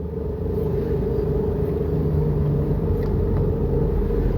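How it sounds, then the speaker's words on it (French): A white Range Rover gives off a steady, loud low engine rumble and road drone that runs unbroken throughout, with no voices over it. "La Range Rover, la voiture de mes rêves."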